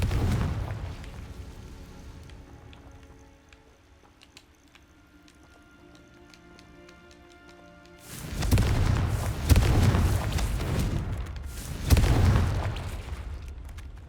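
A Confringo explosive spell in Hogwarts Legacy, heard after a quieter stretch of game sounds as two heavy, booming blasts with rumbling roars, close and loud.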